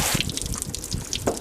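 Water from a hose rinses a tray of amaranth microgreens, a steady close spatter and trickle with small drips running through the whole short stretch.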